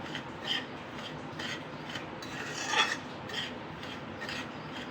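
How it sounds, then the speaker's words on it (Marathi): A spoon scrapes and rasps through semolina (rava) roasting in a pan for Solapur-style upma, a soft, steady scratching with gentle repeated strokes and no talking. "हा रवा एकसारखा हलवत आलेला आहे"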